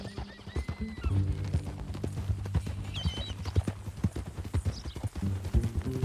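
Horse hooves clip-clop in an irregular walking rhythm in the video game Red Dead Redemption 2, joined by a whinny and low background tones, fairly close and clear.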